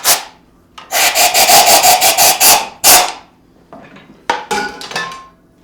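Wood shavings blown out of a hollowed woodturning piece in loud, close, rhythmic gusts of breathy rushing air, followed after a pause by a few shorter, scattered bursts.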